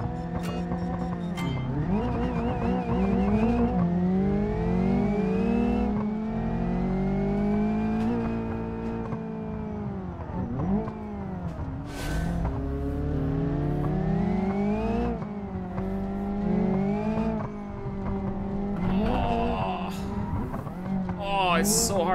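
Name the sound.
car engine revving while driving in video game BeamNG Drive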